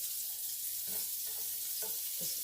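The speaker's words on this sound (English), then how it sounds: "I'm going to put the onions in. Keep that same grease." Thinly sliced onions fry in leftover pork chop grease in a skillet, a constant close hiss of sizzling with a few soft stirring sounds and no voices.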